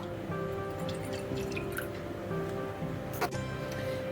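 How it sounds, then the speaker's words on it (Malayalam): Half a cup of milk poured into a bowl to start doughnut dough, a quiet close trickle and drip in a kitchen, soft and brief with faint background noise. "ഒരു ബൗളിലേക്ക് അര കപ്പ് പാലൊഴിച്ചു കൊടുക്കാം"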